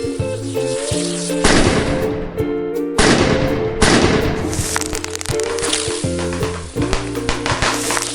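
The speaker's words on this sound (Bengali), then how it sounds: "তুমিও বাজি ফাটাও" Firecrackers burst outdoors in a village festive scene, a crackling, sizzling rush of rapid pops with sharper bangs, loud and close, layered over steady background music.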